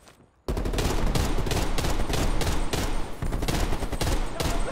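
Sustained automatic gunfire in the video game Call of Duty: Cold War campaign, bursting in suddenly after a quiet moment and continuing as dense, loud, rapid shots.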